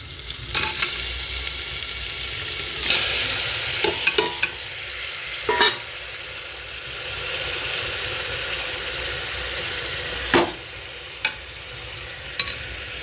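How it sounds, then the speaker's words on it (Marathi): Mutton stirred and fried in a pan gives a steady sizzle with a low hum underneath, broken by scattered spatula scrapes and clacks against the pan, close by and without speech. "हे आता मटण टाकायचं"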